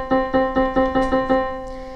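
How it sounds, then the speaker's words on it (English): A single plucked string sounds seven evenly spaced notes at one steady pitch, each with a quick attack and short ringing decay, close and clear with no voices. "if I have a string that's a certain length and it makes this tone"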